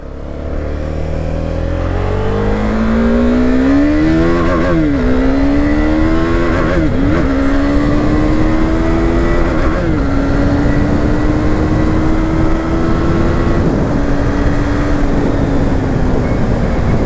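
A 2020 Husqvarna Vitpilen 401 motorcycle pulls away with its single-cylinder engine revving up through several quick gear shifts, each shift dipping the pitch before it climbs again, close, loud and steady with wind rush, no talking.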